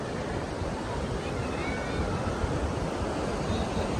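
Athirappilly Falls roars nearby, a dense, steady rush of falling water without pause.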